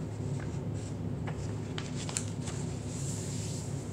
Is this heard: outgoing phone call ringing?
no